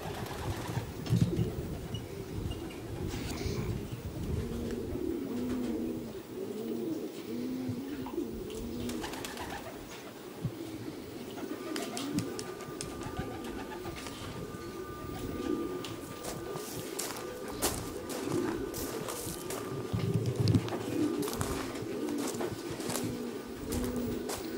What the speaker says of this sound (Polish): Praktycznie 12 minut cały czas obserwujemy przylot gołębi.